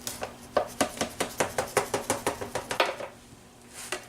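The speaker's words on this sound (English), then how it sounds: "Got a nice sharp knife here, and I'm just going to cut these into little squares." A sharp knife chops cooked food into little squares on a board: a quick, even run of about fifteen crisp close knocks, then a pause and one last faint cut.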